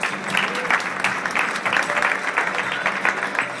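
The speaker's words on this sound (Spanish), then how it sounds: "Un aplauso para Helen, que ha sido ganadora." Audience applause for a prize winner at a presentation event, a steady crowd clapping that holds through the moment.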